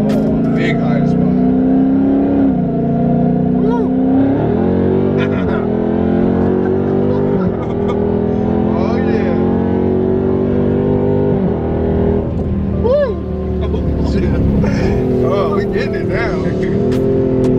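The Bloodycat car's engine revs steadily and loudly throughout a ride, rising and falling with throttle under continuous close, dominant drone, while people talk and shout over it.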